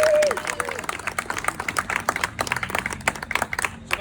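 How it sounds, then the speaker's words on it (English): An audience claps at a Scout Wood Badge ceremony with quick, uneven clapping close to the listener. The clapping is fairly loud and runs for the whole stretch, and a voice is heard briefly at the start. "Let's give him a big round of applause."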